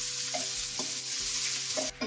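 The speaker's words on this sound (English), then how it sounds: "To that olive oil, we're going to add 6 cups of chopped onions." Chopped onions, cut in fairly large chunky pieces, hit hot olive oil and sizzle steadily and loudly up close, with stirring clatter layered over the continuous frying hiss and no voices.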